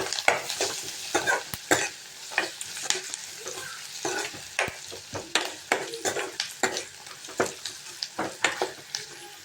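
Salted food fries in a pan while a utensil stirs it in a regular rhythm. Sharp scraping strokes sit over a soft, continuous sizzle, with no speech.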